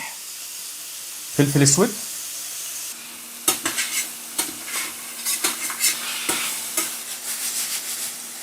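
Beef slices hit hot olive oil and butter with a loud hiss, then fry with a steady sizzle broken by stirring scrapes. A voice speaks briefly over the cooking.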